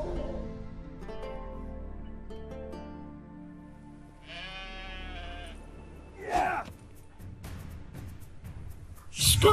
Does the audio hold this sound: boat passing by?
no